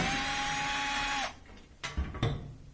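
A steady whirring power driver runs on a washing machine panel, backing out Phillips head screws, then stops abruptly, leaving a few faint clicks and handling knocks.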